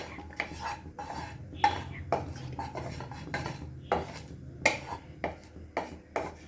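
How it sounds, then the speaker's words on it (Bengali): Cumin seeds and dried chilies stirred in a hot, dry pan with no oil, with close, irregular scrapes and clinks of a utensil against the metal and a soft rustle of the spices in between. "জিরে, শুকনো লঙ্কা দিয়ে একটু শুকনো খোলায় নাড়তে হবে।"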